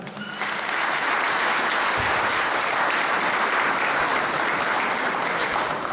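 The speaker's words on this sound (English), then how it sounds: "will you please give him a very big round of applause" Sustained applause from a large crowd in Cardiff City Hall welcoming a speaker, dense and steady clapping filling the room for several seconds, no one speaking over it.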